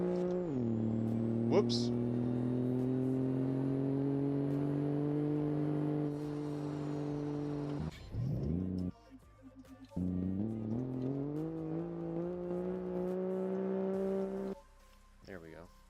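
Simulated car engine in BeamNG revving hard with nitrous, a steady high drone that climbs in pitch, cuts out briefly around the middle, then surges again, with a voice speaking over it.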